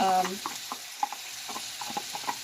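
Shrimp tossed into a hot pan for stir-frying, with a soft sizzle under repeated scraping and stirring knocks from a utensil, close, and a brief bit of talk at the start.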